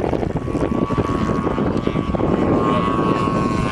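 Small RC model airplane flying in strong wind, its propeller buzzing and droning continuously at moderate distance, mixed with wind noise and a faint voice.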